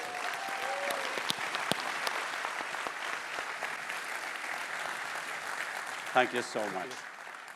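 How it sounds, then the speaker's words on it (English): Sustained audience applause at a tech keynote, a steady wash of many clapping hands filling the hall, with a voice speaking briefly over it near the end. "let's give it a big round of applause"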